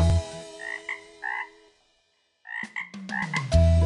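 Cartoonish frog croaks from a children's song, a series of short ribbed croaks over music, then a silent gap, then a busier run of croaks with musical tones underneath.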